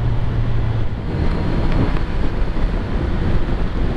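Heavy, steady wind rushes and buffets against the microphone throughout, loud and close, with a low engine rumble underneath, while riding a 2022 Suzuki Hayabusa motorcycle.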